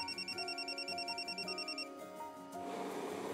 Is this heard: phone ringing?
yes